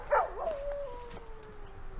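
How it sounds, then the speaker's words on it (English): A lone dog yips and then lets out a drawn-out howling whimper at night, sounding somewhat distant and fairly faint against quiet background noise. "there's some dogs barking off in the distance"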